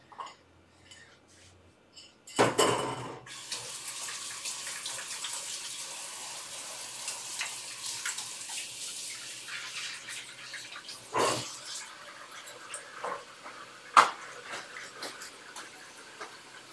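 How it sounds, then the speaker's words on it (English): Hands are washed under a running kitchen tap: steady water flow with splashing bursts and a few sharp clinks, moderately close, no talking. "I'm gonna wash my hands"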